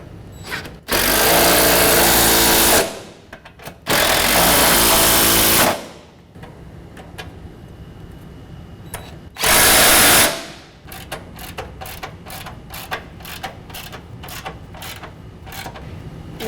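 Bolts on the brackets of Go Rhino Dominator D4 nerf bars are run up against a vehicle body with a power tool, three loud whirring bursts separated by quieter gaps, then a string of quick faint clicks.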